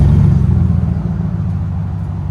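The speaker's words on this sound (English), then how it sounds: "This is the Flowmaster Super 10." A 2019 Chevy Tahoe with a 5.3L V8 and a Flowmaster Super 10 exhaust, rumbling loudly up close with deep steady low-end drone, easing slightly after the first moment.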